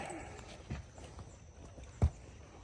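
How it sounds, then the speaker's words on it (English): Horse hooves clip-clop faintly on a guided horseback tour of the Gettysburg battlefield, a few soft, spaced steps under background noise with one louder thud near the end. "I got a decent horse, very reminiscent of Traveler, Robert Lee's horse"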